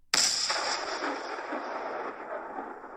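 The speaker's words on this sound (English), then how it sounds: "They got closer and tried to get the attention of anyone on board with a cannon blast." A single sharp cannon blast booms from a sailing ship at sea, then rolls away in a long rumbling tail; no voices.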